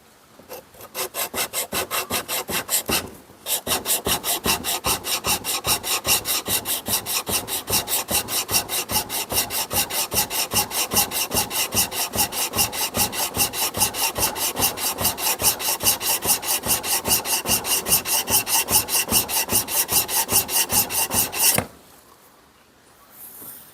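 A blade held in a Trend honing guide being honed on a stone, a long run of fast, regular back-and-forth rasping strokes, close and loud, pausing briefly near the start and stopping at the end.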